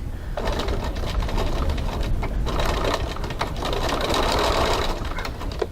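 A sewing machine stitches a seam a quarter inch from the fabric edge, a fast, steady motor whir with rapid needle clatter running close and continuous, easing briefly before picking back up.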